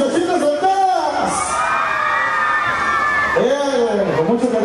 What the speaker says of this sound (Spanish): ¡El grito de las muchachitas solteras!